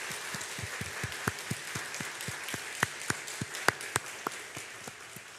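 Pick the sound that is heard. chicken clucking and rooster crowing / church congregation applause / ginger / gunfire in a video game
church congregation applause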